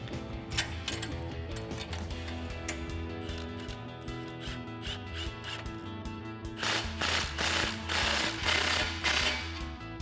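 A 15mm socket wrench tightening an exhaust clamp on a RAM 1500 fitted with an MBRP Armor Lite single exhaust, heard as dense, rapid ratcheting clicks in the second half over a steady tonal hum.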